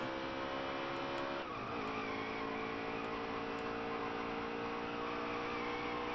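A stock car in NASCAR Heat 3 blows a tire: a steady, loud engine drone dips sharply in pitch as the car skids, then settles back into a continuous roar with faint tire scrub.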